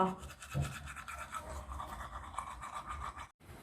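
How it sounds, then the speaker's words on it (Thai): A toothbrush scrubs teeth in a bathroom, a close, steady scratchy brushing sound lasting a few seconds with a brief pause near the end. "ที่เรามาอยู่ในห้องน้ำเพราะเราต้องมาแปรงฟันนะ"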